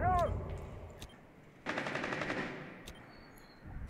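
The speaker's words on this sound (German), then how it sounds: "Schüsse kamen von da hinten, vom rechts" Automatic gunfire in the video game Rainbow Six Siege, a rapid burst of shots lasting about a second, with isolated single cracks before and after and a voice talking briefly at the start.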